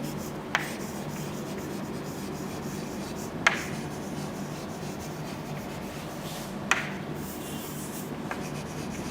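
Handwriting on paper, a steady close scratching and rubbing of a pen across a page, with a few sharp taps as the pen lifts and lands, no talking.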